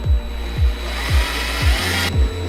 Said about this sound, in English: Now we're going to drill into it